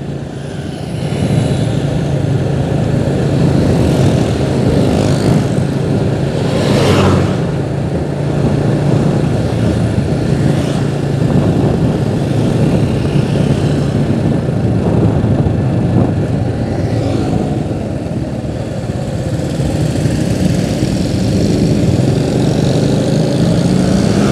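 Steady road traffic drones on a main street in Tasikmalaya before Eid, with a motorcycle engine passing among the continuous hum of vehicles and no talking.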